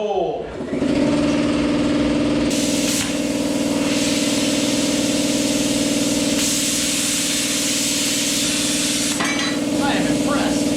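JEGS Cut 60 plasma cutter slicing 1/8-inch aluminum at 20 amps on compressed air, a loud continuous hissing roar with a steady buzzing drone, close and unbroken for the whole stretch after a brief start.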